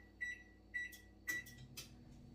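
Oven control panel beeping while preheat is set to 325, four short, quiet electronic tones in an even rhythm, each with a faint button click, in a quiet kitchen.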